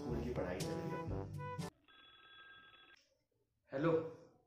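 A telephone rings in a short burst of repeated electronic tones, preceded by people talking nearby and followed by a brief voice.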